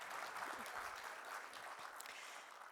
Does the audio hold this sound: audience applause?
yes